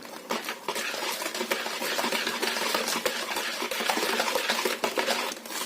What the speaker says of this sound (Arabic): وهنزل بقى بالبيض، 3 بيضات اهو، وهستمر في التقليب